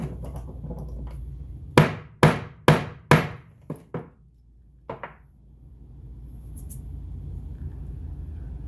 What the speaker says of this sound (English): Couple decent whacks there, and just like magic, we're crimped properly.